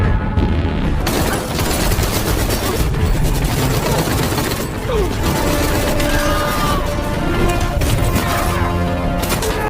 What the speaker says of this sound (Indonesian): baku tembak sengit tak bisa lagi dihindari